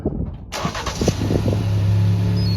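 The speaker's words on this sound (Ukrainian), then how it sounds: "І все, машина включається, заводиться." A 2018 Ford EcoSport 2.0 petrol automatic 4x4 engine, started by remote, cranks over and catches after a brief silence, then settles into a steady, close idle hum.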